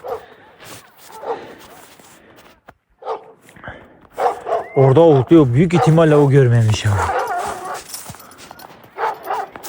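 Dogs in wolf country near grazing goats let out a loud, wavering run of yelps and whines with a few barks, between stretches of nearby talk.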